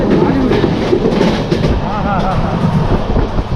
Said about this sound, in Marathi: इंजिनच्या ह्या साईडला बसतो आहे कारण इंजिनचा मला आवाज घ्यायचा आहे